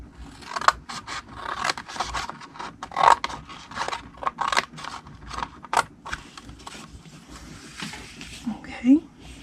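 Scissors snipping card along score lines for a gnome treat box, steady close crisp cuts and scrapes running throughout, with a voice talking over them.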